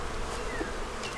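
Honeybees in a beekeeper's long-neglected bee yard buzz steadily around a hive opened while its boxes are moved, a dense, close insect drone with no talk.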